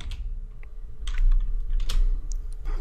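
Computer keyboard typing as code is entered, a close run of quick, uneven key clicks in small bursts with brief pauses, no one speaking.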